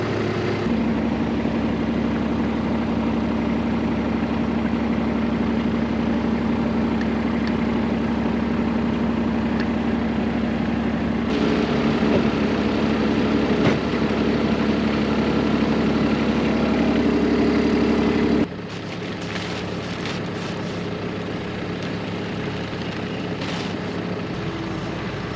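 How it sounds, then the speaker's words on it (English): A John Deere 338 small square baler runs behind a tractor with a 10 bale accumulator, a steady loud mechanical drone with a constant low hum that shifts in tone partway through, then drops slightly quieter near the end. "it's a John Deere 338 small square baler"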